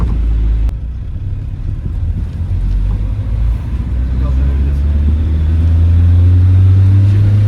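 A VW Golf Mk2 engine held at full throttle, a loud steady drone with a pitch that slowly climbs toward the end, alongside wind buffeting and people talking in the car.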